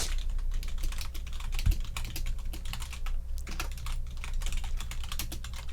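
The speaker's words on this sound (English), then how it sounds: "it's me typing out exactly what you just said" Rapid, continuous clicking of computer keys being typed on, close up and steady, with a brief soft thump partway through.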